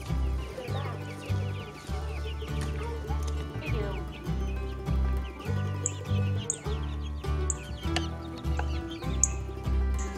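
Chickens cluck and chatter in a steady stream, with soft bird chirps scattered throughout and a persistent low hum in the background.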